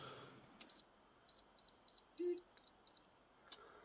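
Short, high electronic beeps from a digital torque wrench repeat in an uneven series, quiet and close, with a slightly lower tone in the middle and no speech.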